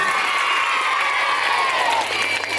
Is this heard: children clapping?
yes